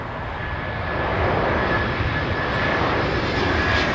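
A jet airliner at London Heathrow Airport on the northern runway, its engines producing a steady, loud broadband roar that swells slightly and holds throughout, with no talk over it.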